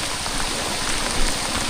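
Steady hiss of rain falling in a forest during a flood, a dense even wash of drops without pause, moderately loud and continuous.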